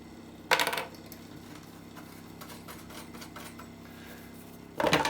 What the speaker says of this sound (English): That noise, by the way, that whirring, is the little fan just to blow the solder fumes away from the area.